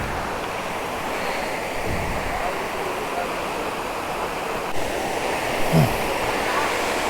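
Water rushing steadily at Madhagaja waterfall near Sakleshpura, a loud continuous roar close by with a faint brief sound partway through.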